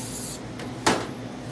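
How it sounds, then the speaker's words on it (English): Cooking spray hissing onto a baking pan for garlic Parmesan focaccia, one short close burst with a quieter hiss before it, no talk over it. "First, spray your pan."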